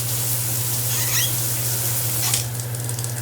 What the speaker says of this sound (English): Pull up to the shower, and that is a good spray coming out of that shower.